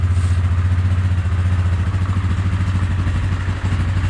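A four-wheel-drive truck engine runs rough on choke, a loud, steady low rumble with an uneven, lumpy pulse throughout, close by and alone, no voices.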